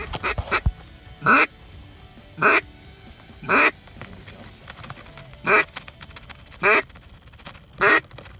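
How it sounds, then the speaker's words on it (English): Drake northern shoveler ducks give a series of short, loud quacking bursts about once a second, repeated six or seven times, outdoors on the water during a late-migration November duck hunt. "Couple of nice drake shovelers in there."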